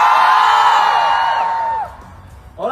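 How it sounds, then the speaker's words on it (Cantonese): An audience at Hong Kong Comic Con cheers and whoops loudly for a few seconds, the roar fading away before a voice cuts back in at the end. "俾啲歡呼聲先"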